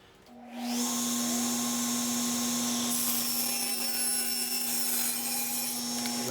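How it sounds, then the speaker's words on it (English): A table saw spins up and cuts steadily through stacked plexiglass and plywood with a guard fitted. A sustained whine and grinding hold for several seconds at close range with no voices. "I have the blade adjusted just so I'll cut through both the plexiglass and the plywood"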